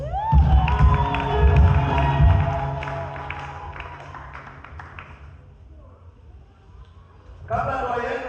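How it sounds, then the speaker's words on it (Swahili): A wedding congregation at a church ceremony breaks into loud cheering, whooping and clapping that swells, then fades to a quieter murmur before a voice briefly cuts in near the end. "mpigie Yesu makofi."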